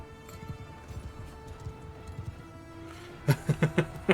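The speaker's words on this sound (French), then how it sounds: "c'est juste que le cheval il est rapide et dur à contrôler." Horse hooves beat in rapid clusters during a gallop in the medieval combat game Mount & Blade II: Bannerlord, softer at first and then a louder burst of close thudding strides near the end.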